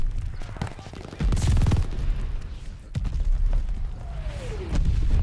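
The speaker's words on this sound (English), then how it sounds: "Is that an... yeah, that's an enemy mortar." Enemy mortar fire during a Call of Duty: Vanguard match: heavy booming impacts and crackling gunfire overlap in a loud, busy battlefield din, with a falling whistle near the end.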